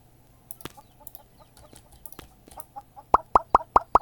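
Chicken in a farming and supermarket simulator game: scattered soft clicks and taps, then a quick run of five or six sharp, close clucks near the end.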